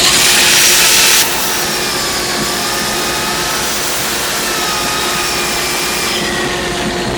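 A wooden pizza handle being sanded with 280 grit sandpaper on a power sander, a loud, steady, close-up whirring hiss that runs continuously with only a slight change in tone early on.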